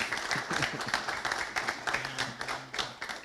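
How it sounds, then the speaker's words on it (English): A small outdoor gathering at a community forum on hard courts applauds a speaker, with uneven clapping from a handful of people and some voices mixed in beneath the claps. "So you give him a round of applause."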